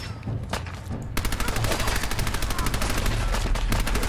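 Rapid automatic gunfire in Fallout 4 rattles in fast, evenly spaced shots, a couple of quick pops first and then a long continuous burst emptying a magazine at close range.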